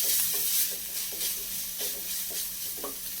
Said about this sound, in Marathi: तर आपलं तूप तापलेलं आहे, तर आपण त्यात खोबरं टाकून घेऊया.